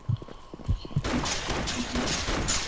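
Rapid gunfire from a bot being shot in a P90 first-person shooter game, a dense burst of loud shots following a few softer thumps at the start.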